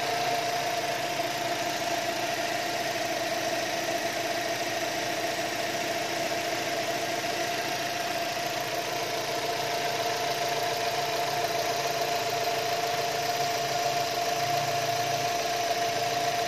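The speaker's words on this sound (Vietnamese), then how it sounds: "Các bác có thể nghe tiếng máy rất là êm nhỉ." A 2018 Chevrolet Cruze LTZ engine idles smoothly and steadily for the whole stretch, an even, close hum with no speech over it.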